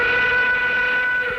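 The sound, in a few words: train whistle and rolling train sound effect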